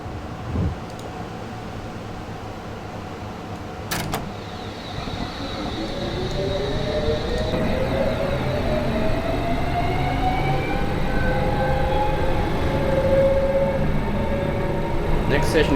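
S7 Stock London Underground train pulling away in Train Simulator 2019, with a brief door thump and clicks, then rising traction motor whine climbing in pitch as a steady rolling rumble builds, loud and close.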